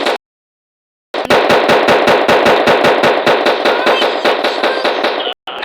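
Rapid automatic gunfire in the video game Blox Strike rattles loud and close in one sustained burst of evenly spaced shots after a brief silence.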